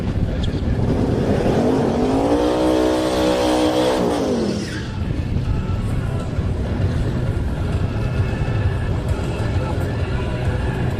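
Drag race car at Toronto Motorsports Park during a heads-up shootout, engine revving with a rising then falling pitch sweep as it passes close and loud, followed by continued engine noise and crowd ambience.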